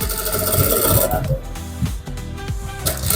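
Close, steady mechanical whirr of a sewing machine stitching a trouser seam, running for about a second and a half before slowing into a quieter hum and a few light knocks.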